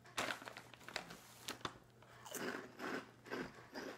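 Close, crisp crunching and chewing of Flamin' Hot Funyuns onion-ring snacks, with repeated bites and moist chewing in an irregular rhythm and no talking.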